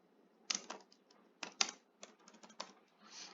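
Typing on a computer keyboard, heard as close, crisp clusters of key clicks in irregular bursts with short pauses between them, and no voices.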